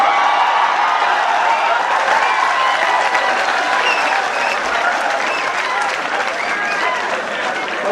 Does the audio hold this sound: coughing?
no